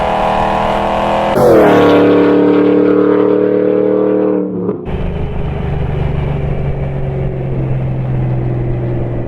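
Modified 2002 Camaro SS with an underdrive pulley accelerating on a drag run, loud V8 roar climbing in pitch, a shift dip, then a steadier, fading drone.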